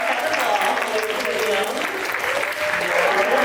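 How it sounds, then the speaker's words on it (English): An audience at an antique fair claps in sustained applause, a dense, even wash of many hands, loud and continuous, with voices mixed in beneath the clapping. "Let's just give another round of applause."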